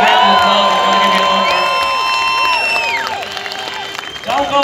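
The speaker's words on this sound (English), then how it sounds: "Give him a big round of applause." Crowd at a protest march in Dublin city centre cheering and applauding a speaker, loud whoops and shouts over clapping, with sustained tonal sounds and voices mixed in, fading toward the end.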